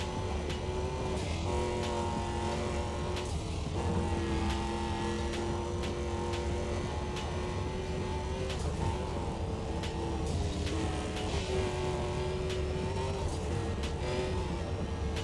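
A car engine in the racing game Need for Speed World revs and drones continuously, its pitch climbing and dropping through gear changes, loud and close with no pauses.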